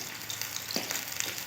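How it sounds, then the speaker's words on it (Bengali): Potato pieces with salt and turmeric fry in hot oil, giving a steady, close, even sizzle with faint bubbling pops throughout the short stretch. "খুব ভালো করে লাল লাল করে আলুগুলো ভেজে নেব"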